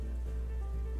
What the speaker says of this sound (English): It's raining buckets outside if you haven't noticed.